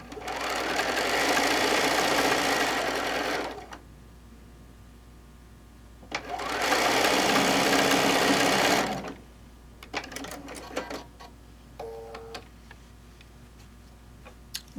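Domestic sewing machine stitching a quilt, with two loud sustained runs of rapid mechanical stitching separated by a pause, then quieter clicks and handling noises and a few short tones.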